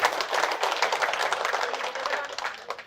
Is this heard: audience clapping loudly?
yes